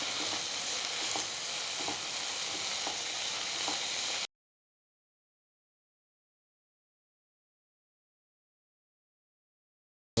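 Spices including coriander powder and turmeric sizzling and frying in a hot pan for a moringa leaf stir-fry, with occasional stirring scrapes, steady and close for a few seconds before cutting to silence.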